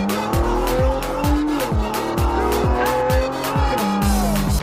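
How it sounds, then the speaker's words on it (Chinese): A car pulls away at full throttle, its engine rising through repeated quick gear-like sweeps while tires squeal, loud and close throughout with no talk. "老哥立刻油门焊死。"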